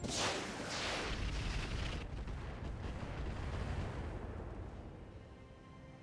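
Weapon fire from a Striker mech in the RogueTech BattleTech game: a loud, booming heavy shot with a rolling, rumbling tail that slowly fades over several seconds, with no voices.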